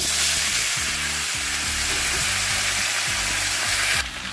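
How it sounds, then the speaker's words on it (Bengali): Potato and bottle gourd pieces frying in leftover fish oil tempered with dried chilli, cumin and bay leaf, giving a loud continuous sizzle with faint stirring thuds underneath, no voices. "মাছ ভাজার তেলেই ফোড়ন দিয়ে দিচ্ছি শুকনো লঙ্কা জিরে আর তেজপাতা দিয়ে দিলাম আলু আর লাউ"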